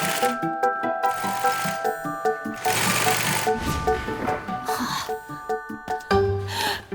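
Sewing machine stitching the back wall of a bouncy castle, a loud close mechanical whirring and rapid clatter in bursts, with musical tones sounding alongside.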